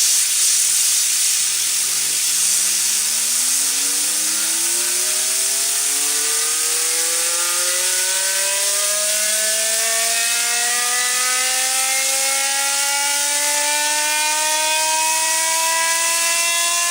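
A homemade gyroscope flywheel spun up on air whines steadily upward in pitch, a rising harmonic tone climbing over a constant loud hiss of rushing air for the whole stretch, with no voices.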